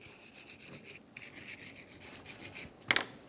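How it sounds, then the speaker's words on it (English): Wire brush scrubbing the rotor mating surface of a wheel hub on a 1994-1997 Honda Accord: close, rhythmic rasping strokes in quick succession, ending in a sharper scrape. "You want to make sure you give it a good cleaning with a wire brush."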